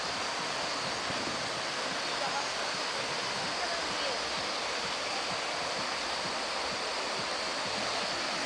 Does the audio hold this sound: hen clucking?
no